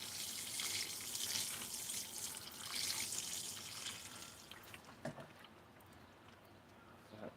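Water poured from a pail onto soil during transplanting, a broad splashing rush for the first five seconds that thins into scattered drips and trickles, close and alone without talk.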